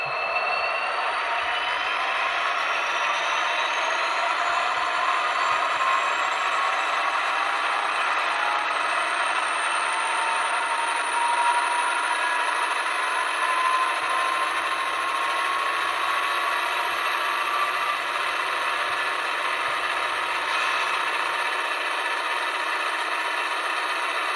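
A ScaleTrains SD40T-2 model locomotive's sound unit, cranked to notch 8, gives a steady, loud diesel drone with rising whining tones held for over twenty seconds.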